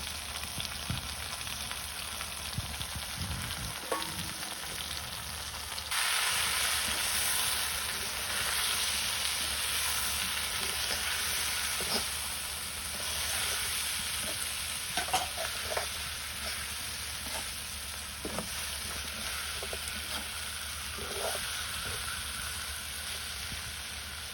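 Small fish with potatoes, turmeric, ginger and garlic paste, chopped green chili and onion sautéing in a pan during village cooking. It gives a steady hiss and crackle that grows louder partway through, with occasional stirring scrapes and no talk.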